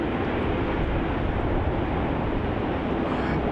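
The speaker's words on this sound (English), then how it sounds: "It's another A320." Airbus A320 airliner at Melbourne Airport, a Jetstar jet, heard as a loud, steady broadband roar of jet engines filling the whole moment without a break.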